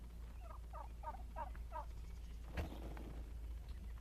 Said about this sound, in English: And back into the garden, there's turkeys.